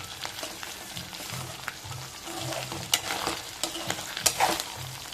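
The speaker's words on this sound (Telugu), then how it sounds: "ఇట్లా కొంచెం బ్రౌన్ షేడ్లోకి వచ్చేదాకా వేసుకోవాలి" Food fries and sizzles in a pan as it browns, with scraping stirs and small crackling pops throughout, close up and without speech.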